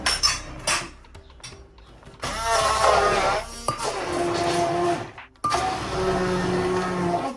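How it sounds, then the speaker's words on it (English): A hand blender whirs through masala mixed with water, running in loud sustained bursts of a few seconds each, broken by short pauses and clicks as the blender is stopped and restarted. "I'm gonna use this hand blender."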